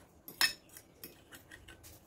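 A utensil mixes an eggplant dish in a bowl with light clinks and scrapes against the bowl, one sharper knock near the start and then softer irregular taps, close and quiet.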